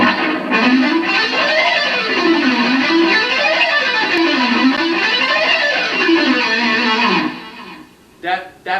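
Electric guitar with an effects or distortion tone plays a scale up and down with alternate picking, a steady continuous run of rising and falling notes that fills most of the clip, then stops, followed by a few brief noises at the end.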